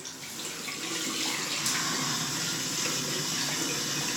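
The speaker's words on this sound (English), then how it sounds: "I'm going to wash out my brush" Tap water running into a sink while a shaving brush is rinsed out, a close, steady hissing stream that holds constant throughout without speech.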